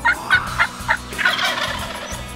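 A wild turkey gobbler calls in spring woods, a quick run of four sharp gobbling notes followed by a longer rattling gobble, loud and fairly close with no talk.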